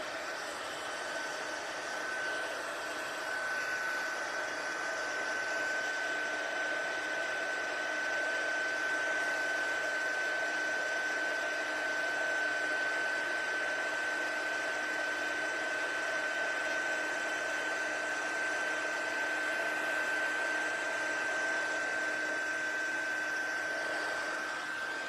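A heat embossing tool blows hot air steadily for about 25 seconds, a constant loud whirring hiss with a fixed motor whine, close and alone with no talk.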